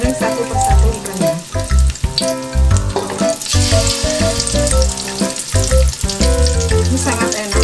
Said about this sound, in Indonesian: Goreng satu persatu ikannya.